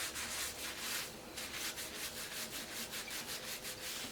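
Dry hair with a little liquid shampoo being rubbed into the scalp, close rhythmic scrubbing strokes repeating several times a second, quiet and without talk.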